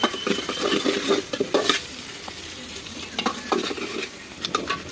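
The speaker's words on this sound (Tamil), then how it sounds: "நல்லா வெங்காயத்தை வதக்கிக்கலாம்." Onions sautéing in a hot pan for chicken biryani, with a continuous sizzle and frequent scraping, clattering strokes of a stirring spoon, close and loud.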